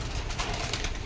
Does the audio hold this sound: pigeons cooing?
yes